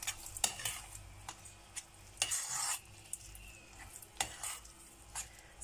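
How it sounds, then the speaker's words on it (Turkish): Fine bulgur being stirred into cooked lentils for Turkish lentil köfte, giving soft scraping and clinking of a spoon against the pot in irregular bursts, with a faint sizzle underneath and no talking. "1 ölçü kısırlık buğdayımızdan, ince bulgurumuzdan koyuyoruz ve karıştırıyoruz."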